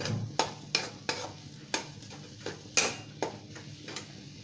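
A spatula scrapes and taps against a wok-style pan (kadai) in a steady rhythm, about ten strokes, stirring potato stuffing, with a faint sizzle underneath.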